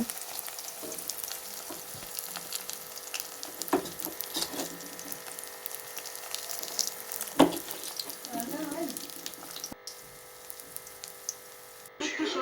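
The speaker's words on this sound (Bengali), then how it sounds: "আমি এইভাবে একে একে সবকটা বড়া কড়ার মধ্যে দিয়ে দেব" Bora fritters frying in a wok crackle and sizzle steadily up close, with occasional stirring clinks and knocks and some brief background voices.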